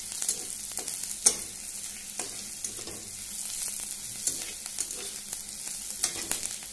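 Onions fry in a pan for a drumstick-leaf curry, a soft crackling sizzle broken by scattered pops and the occasional scrape of a stirring spoon, fairly quiet and without talk.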